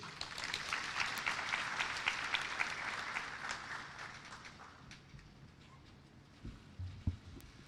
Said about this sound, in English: Let's give Waziri Mvurya a better round of applause